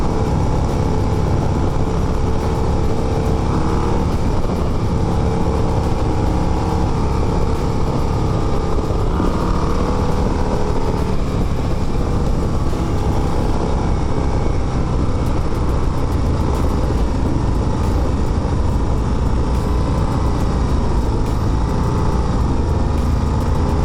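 2024 Harley-Davidson Road Glide ST motorcycle riding, its engine and stock exhaust giving a steady, fairly quiet low rumble mixed with wind roar, continuous and close throughout with no talking.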